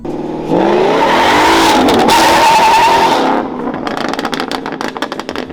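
Whipple supercharged Mustang GT accelerating hard in first gear, a loud close engine roar with rising pitch building steadily for a few seconds, then cutting back to a rougher, crackling idle-like rumble.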